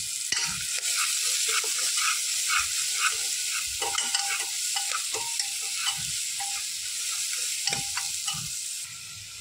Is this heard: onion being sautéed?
yes